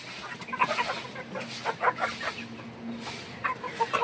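Three-month-old Egyptian Fayoumi chickens clucking at a poultry farm, with many overlapping soft clucks and calls from a flock at moderate distance and no talk.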